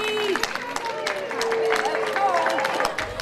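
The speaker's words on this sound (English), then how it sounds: "The goat stampede at Beacon Hill Park is a daily ritual, where the crowd gets to cheer on these goats" A crowd cheers and claps along as goats stampede through Beacon Hill Park on their daily run, a steady blend of cheers, applause and babble with excited voices rising above it throughout.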